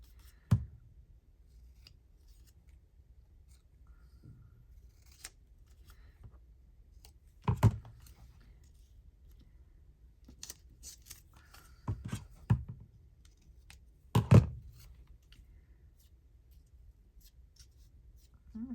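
Scissors cut pieces out of book pages in a quiet room, making sparse, crisp snips spaced several seconds apart, with soft paper rustling between them.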